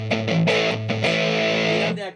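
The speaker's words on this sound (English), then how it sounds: "now I'm going to activate back to the switch, the mid position for distortion" A Monkey FX effects pedal set to distortion mode colours a few short, abrasive, buzzy notes and chords played up close, ending in a quick fade.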